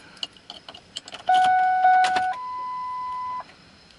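A 2001 Ford Expedition ignition is turned using an incorrectly programmed key, and it does not start: key clicks and rattling, then steady electronic chime tones from the dash that step down in pitch before cutting off, with no engine firing.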